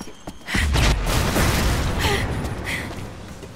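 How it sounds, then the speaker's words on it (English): A grenade goes off in the video game Rise of the Tomb Raider, a loud deep boom with a rumbling tail, followed by scattered smaller bursts and pops. "That's a grenade."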